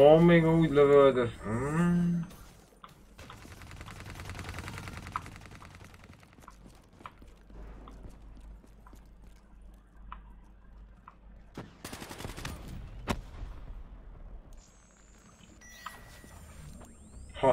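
Gunfire from the video game Call of Duty: Black Ops III, with sharp rapid shots that come in bursts and fade to sparse distant pops over a long stretch, with a player talking over it now and then.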